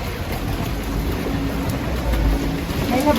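Steady outdoor rain gives a dense, even hiss with a low rumble beneath. It is loud and continuous, with no voices.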